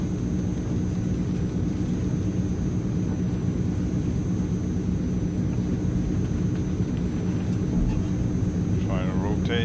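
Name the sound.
Transall C160 aircraft taking off, Microsoft Flight Simulator game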